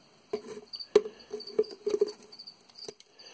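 A pet cricket is offered by hand to a pet, chirping in short, quiet bursts with a faint steady high tone and soft patter of movement, close and alone without voices.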